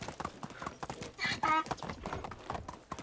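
A horse's hooves clop in quick rhythm during a ride toward town in Medieval Dynasty, close and moderately loud, with a short burst of louder hoof noise and a voice talking over it.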